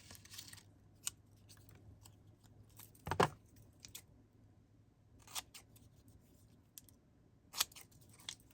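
Scissors trimming small white paper scraps in a quiet room, with several short, crisp snips spread irregularly through the moment and one louder, longer cut near the middle.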